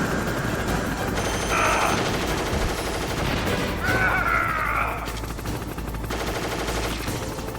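Video game gunfire, a steady rattle of shots with a couple of louder bright impacts around the middle, set in a busy, noisy game soundscape.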